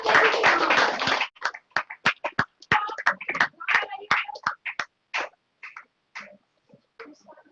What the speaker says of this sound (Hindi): और तालियां बजती रहनी चाहिए